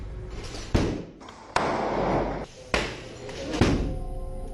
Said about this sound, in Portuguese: As tropas usam granadas que emitem luz e um barulho ensurdecedor.